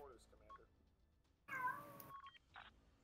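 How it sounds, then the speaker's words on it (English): A cat meows once, a short, clear, moderately close cry in the middle of a quiet stretch, with faint muffled voices and soft electronic tones around it. "It's someone's cat."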